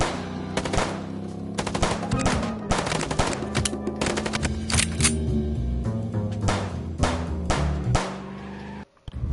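Rapid bursts of gunfire in the Chicken Police game, loud and dense, with overlapping volleys and single cracks stacked over a steady musical drone, cutting out abruptly near the end.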